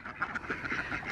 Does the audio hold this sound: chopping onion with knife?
no